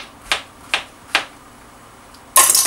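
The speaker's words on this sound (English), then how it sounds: "I'm also add a piece of zucchini." A knife chops a piece of zucchini on a cutting board in a home kitchen, making three crisp separate cuts spaced evenly and close, then a short louder burst of clatter at the end.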